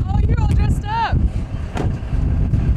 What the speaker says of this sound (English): Okay, it's very windy